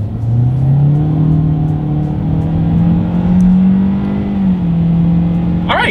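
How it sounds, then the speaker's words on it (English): Base engine of a 2023 Kia Forte accelerates while pulling onto a road, heard from inside the car as a steady, loud engine drone rising in pitch with road noise underneath. "let's see how quickly we can get our base engine configuration here up to speed"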